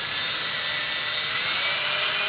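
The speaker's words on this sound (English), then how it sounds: "Just use a screwdriver or drill and remove those" A drill or screwdriver backs out the cover screws on an AZ One Cup brewer, giving a steady, close, bright whirring hiss that runs unbroken for a couple of seconds with no one talking.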